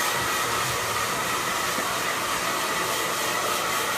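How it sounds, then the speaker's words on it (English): A salon hair dryer blows hot air during a blow-dry, giving a constant, loud, even whooshing roar throughout with no talking. "we're going to be drying the hair off, then we're going to be getting it really, really hot"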